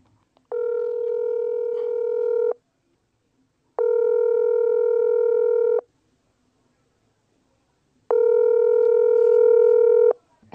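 Telephone line ringback tone while calling out to reach a caller: three steady two-second buzzing tones separated by pauses, clear and alone.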